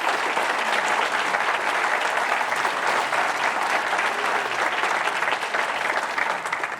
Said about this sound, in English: One round of applause for all the finalists and recipients.